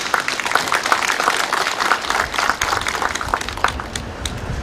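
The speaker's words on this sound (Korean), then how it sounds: "이 두 분께도 여러분 큰 박수 한번 부탁드리겠습니다" Audience applause at the opening ceremony of a farm machinery rental office for an agricultural cooperative in Icheon, a dense, loud crowd clapping that carries on steadily and tapers slightly near the end.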